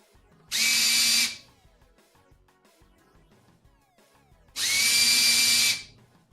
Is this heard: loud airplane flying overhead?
no